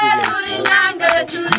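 Children in the small African village of Magombo clap their hands in a steady, evenly spaced beat to keep rhythm for dancing, close and fairly loud over sustained voices.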